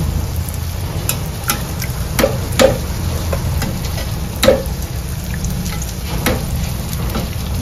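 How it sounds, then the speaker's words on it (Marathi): Anarsa deep-frying in hot oil as more hot oil is spooned over the top, a steady close sizzle broken by several sharp pops and splashes spread through the clip. "आणि थोडं बाजूने तेल असं सोडायचं त्याला, गरम गरम तेल वरून."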